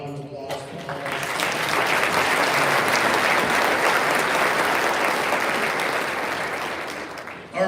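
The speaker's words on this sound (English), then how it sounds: "How about a round of applause for all" An award ceremony audience breaks into sustained applause, building quickly to a full, steady wash of clapping that holds for several seconds before tapering off, with a voice briefly heard at the start.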